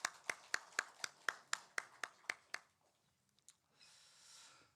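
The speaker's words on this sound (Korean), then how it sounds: "우리 목자 성가대 우리 큰 박수로 격려해 주시길 바랍니다." Faint, evenly spaced claps, about ten in quick rhythm, ring out in a church service after the choir sings, then fade into near silence with a few soft knocks.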